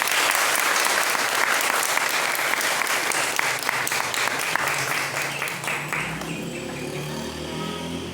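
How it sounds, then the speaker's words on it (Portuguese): Church audience breaks into sustained, dense applause from many hands, loud and steady for most of the stretch before thinning toward the end. "eu quero uma salva de palmas para a Imaculada"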